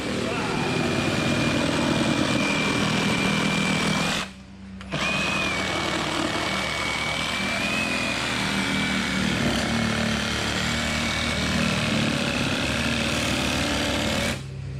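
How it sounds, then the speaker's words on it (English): An angle grinder cuts into a KBD car bumper with a loud, continuous high-pitched whine, broken by one brief pause partway through, outdoors in a backyard. "I have an angle grinder."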